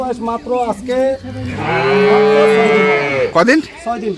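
A six-day-old calf at a cattle market in Noakhali gives a loud, drawn-out moo at close range. Short voice-like calls come before and after it.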